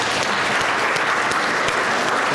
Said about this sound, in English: We're going to give Mom a round of applause